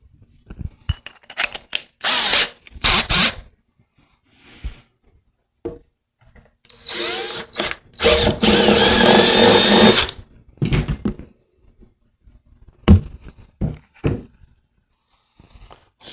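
A power drill fitted with a half-inch bit whirs in short bursts and one longer loud run of about two seconds, close up, with pauses and handling clatter between.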